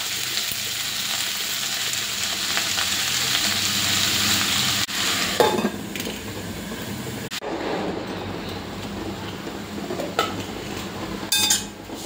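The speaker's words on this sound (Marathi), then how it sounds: "तेल टाकून घ्यायचं आहे आणि भाजी छान शिजवून घ्यायची आहे" Chandan batwa and spinach fry in hot oil with a steady bright sizzle, broken by occasional scrapes and clatters of a spoon stirring the pan.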